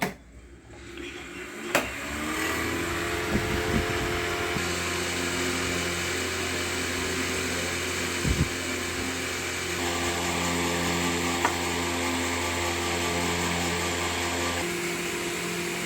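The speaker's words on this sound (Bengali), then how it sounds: "এবার আমি ফ্যানটা চালিয়ে নিলাম" An electric fan switches on indoors and spins up into a steady, loud whirring drone with a faint hum, running continuously with a few small knocks and clicks over it.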